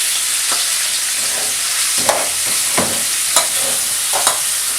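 Meat frying in hot oil in a pot, a steady close sizzle broken by several sharp scraping stirs at irregular intervals, with no voices.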